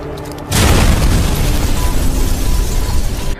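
A sudden loud explosion bursts in and roars on as a sustained, rumbling blast that fills the rest of the clip.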